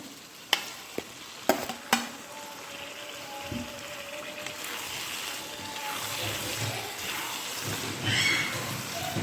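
Onions and tomatoes sauté in a pan for biryani with a steady, fairly loud sizzle, while a few sharp knocks of a spoon against the pan ring out early and stirring continues throughout.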